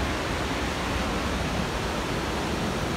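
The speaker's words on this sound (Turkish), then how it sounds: "Keban Barajı'nın Çırçır Şelalesi'nin oradayız." Çırçır waterfall at Keban Dam in Elazığ pours as a dense, constant roar of falling water, close and loud, with no voices over it.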